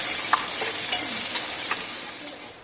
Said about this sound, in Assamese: পিঁয়াজখিনি এতিয়া মই বাদামী কালাৰ নোহোৱালৈকে ভাজি থাকিম